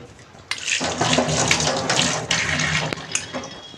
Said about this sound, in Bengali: ও, হাতাটাও তো ধুতে হবে।